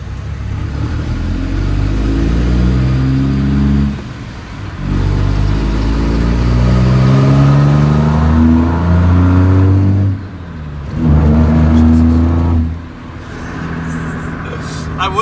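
A Dodge truck with a 700hp Cummins diesel engine accelerates in loud, close surges, its engine note rising through each gear with brief dips between pulls.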